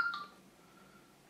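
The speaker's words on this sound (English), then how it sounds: "Okay, sorry for the phone." A phone sounds during a miniature painting session: one short electronic tone burst at the very start, then a thin fading tone under quiet room hiss.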